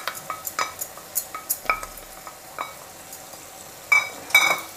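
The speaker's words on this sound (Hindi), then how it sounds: "और इसे भी मैं गोल्डन ब्राउन होने तक फ्राई करूंगी।" Cooked dal being fried and stirred in a pan for egg curry, a series of light rhythmic scrapes and clinks of a spoon against the pan, fairly faint, with a couple of louder sizzling scrapes near the end.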